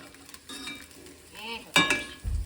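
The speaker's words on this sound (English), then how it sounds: "So he is frying himself a couple eggs." Soft sizzling of eggs frying in a pan, with a scrape of a utensil and a clink of cookware near the end.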